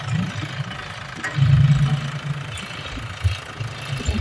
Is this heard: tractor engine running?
yes